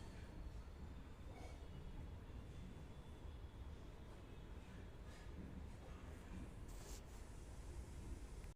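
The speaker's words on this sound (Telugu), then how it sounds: "sound చూసారు కదండి మనకి ట్రైన్ అని చెప్తారు ఇదేనండి ట్రైను" A train at Ramoji Film City moves along with a continuous, heavy rumble and rattling hiss, steady and unbroken throughout.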